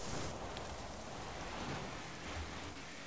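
Heavy rain from a storm pours steadily outside an open front door, a continuous, fairly faint wash of broadband hiss with no breaks and no voices.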